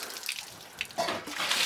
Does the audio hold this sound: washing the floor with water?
yes